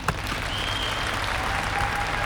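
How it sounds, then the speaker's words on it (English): Brief, steady applause from a group, fairly close and even, carrying on without speech over it for a couple of seconds. "can we just get a round of applause for all the Toms out there"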